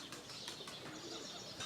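Pigeons coo softly nearby, a quiet, continuous murmur of low calls mixed with a few faint chirps and a light rustle.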